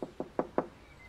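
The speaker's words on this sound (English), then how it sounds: "What was knocking?" Four evenly spaced knocks on a door inside the Hello Neighbor FNAF mod, crisp and fairly close, followed by a brief quiet.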